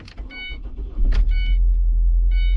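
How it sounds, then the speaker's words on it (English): A 2011 Ford Transit Connect van engine cranks over and catches, then settles into a steady low idle rumble, heard up close from inside the cab with no talking. "listen to that engine purr"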